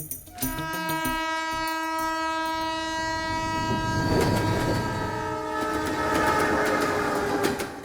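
A train pulls into a station, its loud sustained horn sounding over steady rail rumble and clatter, with the horn's tones holding through the whole stretch and the rumble swelling midway.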